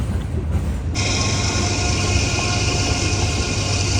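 Freight train with a distributed power locomotive running at full throttle, a loud continuous rumbling roar with grinding rail noise that stays close and steady throughout.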